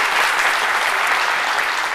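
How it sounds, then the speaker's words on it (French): Dense, steady applause from a studio audience on a French talk show, loud and continuous for the whole stretch with no voices over it. "je demande de nouveaux applaudissements, s'il vous plaît"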